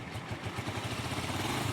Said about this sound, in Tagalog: Kumbaga normal na tunog na ng TMX yung naririnig ko.